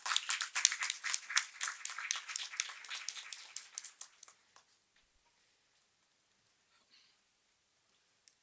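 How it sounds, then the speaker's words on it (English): Audience applause welcoming a panel at a half-day seminar on palm oil nutrition, a dense round of clapping that fades out after about four seconds, leaving near silence. "Let us welcome them with a huge round of applause."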